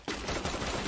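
A rapid burst of UMP gunfire in Free Fire, a continuous rattle of shots lasting under a second after a brief quiet moment.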